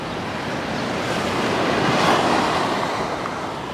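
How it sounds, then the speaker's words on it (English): Waves break steadily on Alykes Beach, a blue flag beach along Poseidonos Avenue in Paphos, Cyprus, with a continuous wash of surf that swells slightly midway, mixed with wind buffeting the microphone. "this is Alykes Beach"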